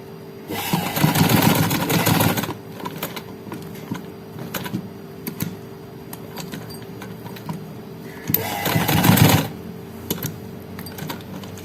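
A sewing machine runs in two bursts along a looped garment neckline, a dense rapid mechanical whir up close with quieter handling clicks between runs.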